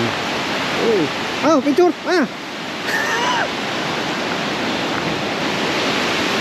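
Shannon Falls waterfall near Whistler, BC, a broad steady rushing roar filling the scene, with a voice talking briefly over it early on.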